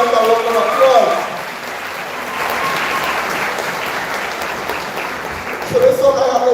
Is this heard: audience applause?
yes